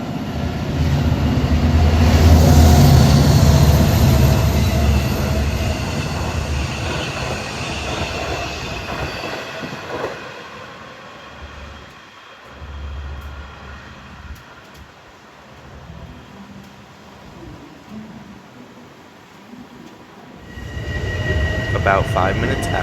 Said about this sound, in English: Next up was train 26 to Montauk, which usually takes track 1 in the middle